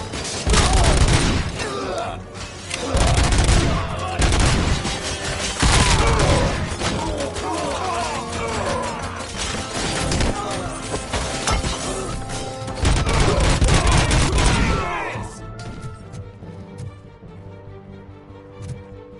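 Gunfire in the video game Robocop Rogue City: loud, sustained bursts of rapid shots in repeated volleys over an action score, fading to lingering music at the end.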